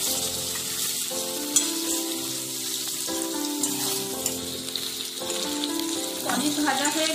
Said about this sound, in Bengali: পনিরগুলো একটু হালকা করে ভেজে নেব।